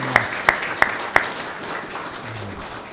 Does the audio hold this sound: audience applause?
yes